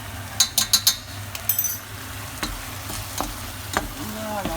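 Tomatoes and onions sizzle in a pan alongside fish as a spoon stirs them, with a quick run of metallic clinks near the start, then soft scrapes over a low frying hiss.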